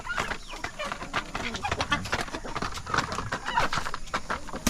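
Farm chickens cluck and chatter in busy, overlapping bursts from fairly close, among poultry on a farm raising chicks, with a steady high background hiss and scattered clicks throughout.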